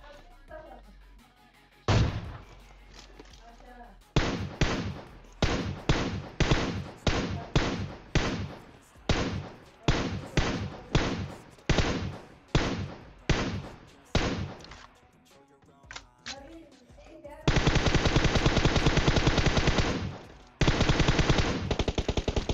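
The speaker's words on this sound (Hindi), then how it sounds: "इस बार मेरे ख्याल से भाई बैरल चलाते हैं एम सात छे दो" Rapid bursts of M762 rifle fire in PUBG Mobile, loud and close, come in repeated short volleys with brief gaps, followed by a long sustained stretch of continuous shooting near the end.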